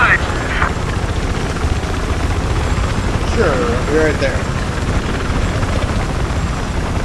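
A helicopter in the video game Battlefield 4, on the Siege of Shanghai map, drones steadily and loudly through the whole stretch while a player talks over it.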